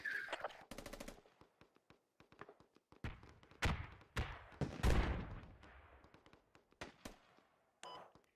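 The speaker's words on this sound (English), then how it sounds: "Taking fire, bearing 240, 255." Gunfire in the military shooter game Squad, sharp rapid bursts of rifle and machine-gun shots with heavier booming impacts, some close and loud, others distant, in irregular volleys.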